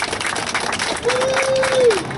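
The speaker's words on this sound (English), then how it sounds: "let's give all the police a round of applause." Crowd applause for police at a city summer-program launch at a recreation center, short burst of clapping mixed with murmuring voices and a brief whistle-like tone in the middle.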